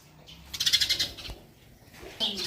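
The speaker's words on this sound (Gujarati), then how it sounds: "ચકલા રાજો ચકચકાટી કરે નકરા સવારના પોરમાં છે" Small birds, sparrows, chirp in a quick, bright flurry on an early morning outdoors, the calls rising and fading in short bursts with a second busy patch near the end.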